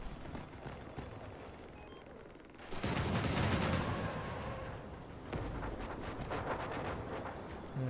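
Artillery fires from a large spider-legged combat vehicle with a dual artillery build in the Crossout video game. A heavy, booming blast erupts partway through and rolls on, then a second loud report follows amid ongoing battle noise.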